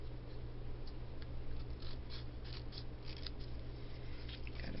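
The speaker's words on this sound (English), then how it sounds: "Then I take my scissors and I go up just a little bit more, cut toward the center," Scissors snip paper for a rubber-stamped card banner in a run of faint, irregular small cuts over a constant low hum.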